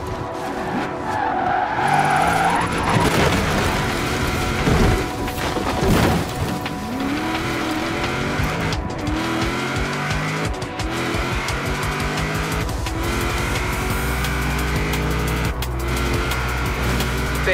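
Car drifting in the racing video game Forza Horizon 4: a loud engine revs and shifts while tires squeal and skid in long sliding bursts, with the revving climbing in pitch near the end.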